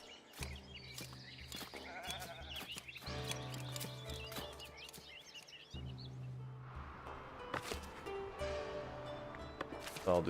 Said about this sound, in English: Oh, we can have 50 sheep.